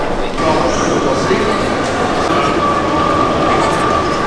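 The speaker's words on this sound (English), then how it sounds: "I have got to the train station and now going to find my platform." Ambient sound at a train station, with a steady broadband rumble of rail traffic and station hubbub and a faint tonal hum running throughout at constant loudness.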